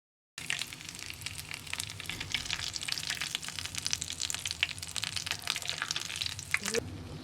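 Onions frying in oil make a dense, steady crackling sizzle that runs continuously, fairly close, with no talking over it.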